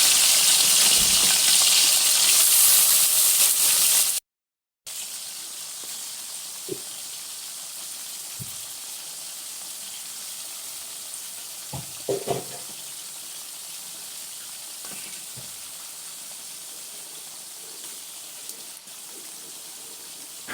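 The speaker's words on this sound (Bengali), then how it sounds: "মুরগির মাংসের রোস্ট করার জন্য প্রথমেই আমি মাংসের পিসগুলো ভেজে নিব" Chicken pieces fry in a generous amount of oil for a roast. A loud burst of hissing comes first, then a steady, softer sizzle continues, with a few faint clinks and bubbling pops scattered through it.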